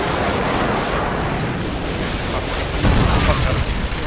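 Enemy Harrier airstrike explosions in Call of Duty MW2 free-for-all: continuous loud rumbling blasts with a heavier boom near the end, dense and close, with players talking.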